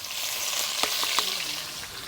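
Onion gravy sizzling in a hot pan for stuffed okra curry (bharela bhinda nu shaak), with garlic and peanuts already in, giving a loud, steady frying hiss with a few crackling pops throughout.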